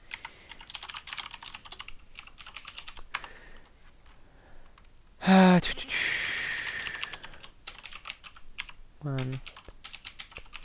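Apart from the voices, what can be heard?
typing code on a computer keyboard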